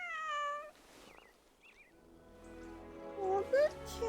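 A cat meows in the video game 11-11: Memories Retold, a harmonic mew opening the scene, then several short, faint chirps. Later, a wavering cry rises over a low hum and music, and voices talk in the background.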